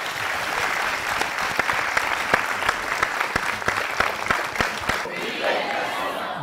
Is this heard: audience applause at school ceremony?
yes